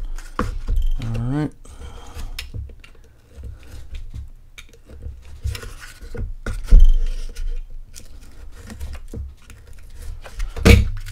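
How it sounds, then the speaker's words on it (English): A knife cutting through excess glue on a model aircraft, with short, close scraping and clicking cuts in irregular bursts, and a voice speaking between them. "so I'm having to cut through quite a bit of glue."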